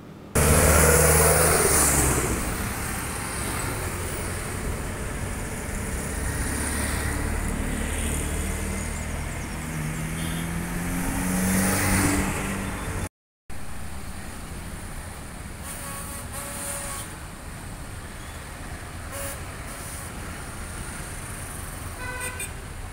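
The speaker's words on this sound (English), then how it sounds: "Look at the visuals of the vehicles all over the place." Crowded city road traffic in India, with vehicles droning and horns tooting repeatedly in a busy street, loud at first, then a brief cut before fainter traffic with scattered honks resumes.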